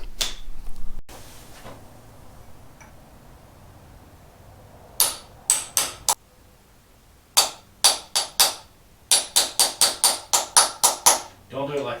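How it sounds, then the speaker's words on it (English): Sharp metallic hammer strikes ring out on a chisel while flattening parts on a BMC 1800cc B-series engine flywheel, first in a group of four, then in faster bursts of six and more, close and loud. "take our hammer and our chisel, flatten those out"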